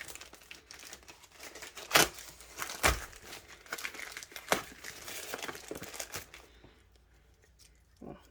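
Plastic packaging crinkles and rustles as boxed items are pulled out of bags during an unboxing, with several sharp, louder crackles standing out over continuous close handling before it quiets near the end.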